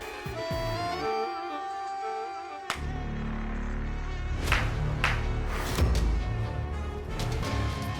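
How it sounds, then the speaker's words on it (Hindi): A swarm of mosquitoes whines through a room in a TV show scene, a steady high buzz that starts softly, then swells after a sudden crash into a louder, busier wash with thumps beneath it. "इतने सारे मच्छर कहाँ से आ गए?"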